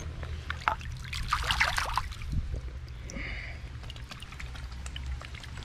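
Water trickles and splashes steadily as it is poured out of a bottle dug up on a bottle hunt in Alabama, a faint, continuous dribble over a low background hum.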